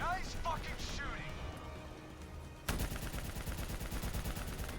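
Sustained automatic gunfire crackles in Call of Duty: Black Ops III, a rapid, dense rattle that holds steady and grows louder partway through. It is mixed with game sound effects and voices talking over it.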